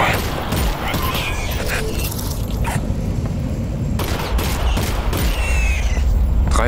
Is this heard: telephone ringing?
no